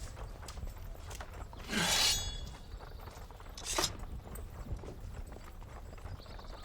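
Horses being readied clip-clop over hard ground, with irregular hoof strikes scattered through the stretch and a couple of louder clanging hits standing out.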